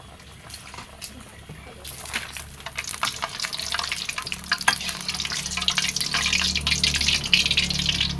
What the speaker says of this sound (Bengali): দেখুন কি সুন্দর করে আমরা আলু চিপ ভেজে নিয়েছি।